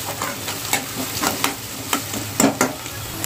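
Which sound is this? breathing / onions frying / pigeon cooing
onions frying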